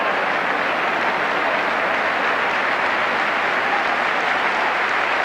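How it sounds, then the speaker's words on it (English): Applause from the crowd at a West Ham versus Manchester United football match, a continuous, even roar of clapping and crowd noise that holds steady throughout without a break. "Applause all around"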